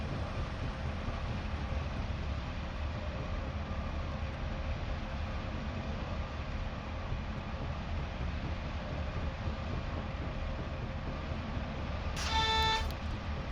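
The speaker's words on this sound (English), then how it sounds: "There's a reminder of what the horn sounds like as we go over that crossing." Train horn sounding at a level crossing on a Western Lines of Scotland rail journey, a short loud harmonic blast near the end over steady rumbling cab and track noise.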